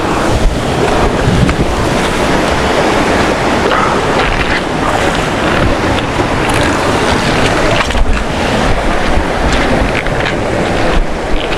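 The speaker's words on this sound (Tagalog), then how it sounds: "Wala talaga, lakas ng alon." Loud, constant roar of rough ocean waves and wind buffeting the microphone on a night light-fishing boat off Palawan, with occasional splashes and thuds, no voices.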